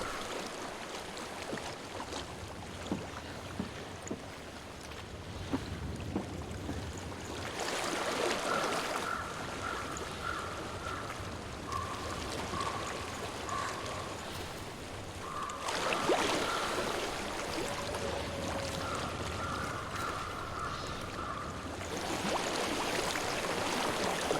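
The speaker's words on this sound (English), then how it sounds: "I hear water." A flowing stream in the video game Hellblade: Senua's Sacrifice makes a steady broadband rush of running water that stays constant throughout, with faint tonal hums drifting in and out behind it.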